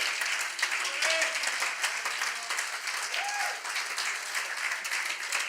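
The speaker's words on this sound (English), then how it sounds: "can we all give a wonderful hand of praise and clap offering to Jesus for what He's doing" A church congregation gives a hand of praise to Jesus during a sermon; steady, moderately quiet applause from a group, a dense wash of claps with a few voices calling out over it.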